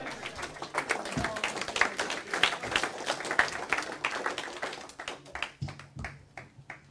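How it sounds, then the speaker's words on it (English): Audience at a business sales talk gives a modest round of applause, dense overlapping claps at moderate distance that thin into a few scattered claps toward the end. "Okay, have a round of applause."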